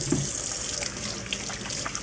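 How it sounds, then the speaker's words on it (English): Water runs steadily from a kitchen tap during handwashing before cooking sliders, a continuous close splashing hiss with no voices. "wash your hands"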